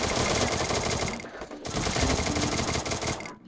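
Rapid automatic gunfire in the mobile battle royale game Free Fire, loud and dense bursts that briefly drop out near the middle before resuming, with no talk over them.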